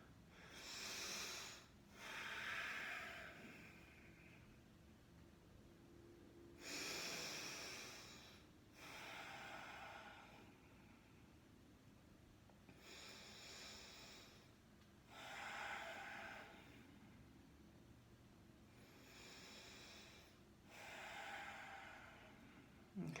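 Slow, deep breaths during a yoga warm-up: airy inhales and exhales in a steady cycle, each lasting a couple of seconds with pauses between, heard close and quiet.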